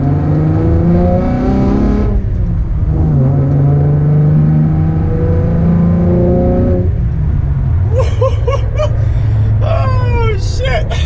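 A Camaro V6 fitted with an X pipe and a resonator delete revs in loud, deep sweeps, the engine note climbing and falling in several pulls with sharp bursts near the end.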